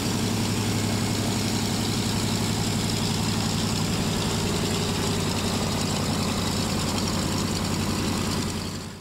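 Piston engines of an 80-year-old Dakota aircraft at Beek airfield run at a steady loud idle, a dense rumbling drone with throbbing low tones, fading slightly at the end.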